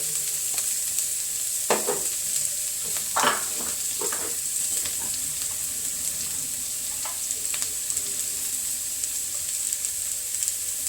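Carrots sauté in a pan with a soft, steady sizzle and occasional scraping stirs from a spoon, fairly quiet and continuous, with no voices over it.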